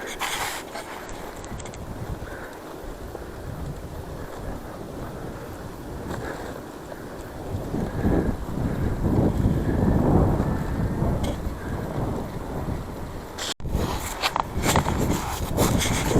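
Wind buffets the microphone in a continuous rumbling roar, building stronger in the middle before easing, with a few sharp crackles near the end.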